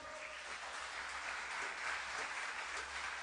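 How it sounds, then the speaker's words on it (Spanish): Church congregation clapping for the Lord during a Spanish-language sermon, a steady sustained wash of applause from many hands, fairly distant and even throughout. "Denle un fuerte aplauso al Señor."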